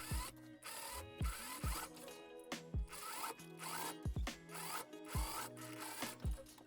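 A sewing machine stitching the side seams of a blouse sleeve, running in short bursts of rapid mechanical whirring with brief stops and thumps between them, close and clear.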